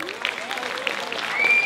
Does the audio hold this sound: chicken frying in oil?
no